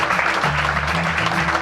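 A brief burst of clapping from a jazz festival crowd at San Vito Jazz 2012, steady and fairly loud throughout.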